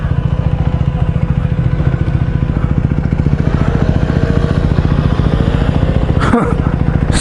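A scooter engine buzzes loudly and steadily close by on a Melbourne road, a rhythmic pulsing drone that stays near throughout, with a sharp clunk near the end and a voice briefly audible.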